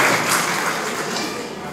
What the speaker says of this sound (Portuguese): Uma salva de palmas, Cavernoso.